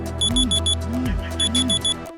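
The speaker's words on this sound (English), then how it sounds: "beep. The timer goes out." Electronic timer beeping in rapid bursts of four high tones, repeating twice, over a low droning hum.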